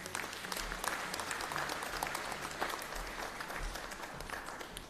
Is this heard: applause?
yes